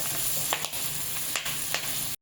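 Chopped capsicum dropped into hot oil, a steady bright sizzle throughout with a few crackling pops, close and fairly loud, no voices.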